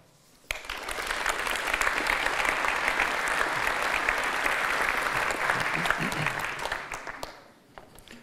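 Audience applause rises abruptly at a stage event at eco2friendly-DAY'18, a dense, steady clapping from a large indoor crowd that holds for about seven seconds and then tapers off.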